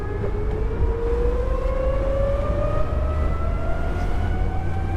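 A steady motor whine climbs gradually in pitch over a constant low rumble and rushing water as a 35-knot Vita LION electric sportsboat accelerates at full throttle onto the plane.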